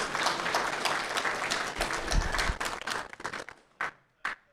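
Audience applause at a real estate investors' meeting, a dense burst of many hands clapping that swells, then thins out into a few scattered final claps before dying away.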